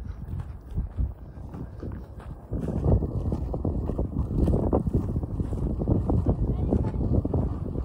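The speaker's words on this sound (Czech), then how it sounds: "A jelikož ten kopec je ze všech čtyř stran holý, tak tu docela hodně fouká." Wind gusting across a bare, treeless hilltop at Radobýl in the Czech Central Uplands, a steady low rumble buffeting the microphone that grows stronger and more constant after the first few seconds, with some faint voices mixed in.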